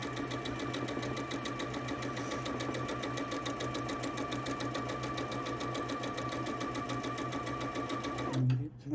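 A sewing machine stitches a long quilt seam, its needle whirring in a steady, fast, even rhythm for most of the stretch before cutting out abruptly near the end.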